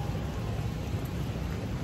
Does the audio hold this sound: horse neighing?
no